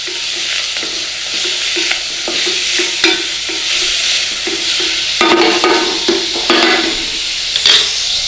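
Onions sautéing in a pan for a marinara sauce, a steady loud sizzle with repeated scrapes and stirring strokes throughout, no voices.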